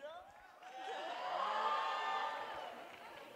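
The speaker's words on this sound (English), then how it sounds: "Let's make some noise for that one" An audience at a UC Berkeley Indus Anahat a cappella event cheers and whoops, the crowd noise swelling to a peak and then easing off over a few seconds, with no distinct clapping.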